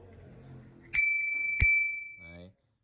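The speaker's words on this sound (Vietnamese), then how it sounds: "tiếp theo là một chiếc chuông hình tháp" A small tower-shaped bicycle bell, sold among used Japanese bicycle accessories, rings twice in quick succession with bright, sustained metallic tones. A voice murmurs quietly just before the rings, and a brief low vocal sound follows as they fade.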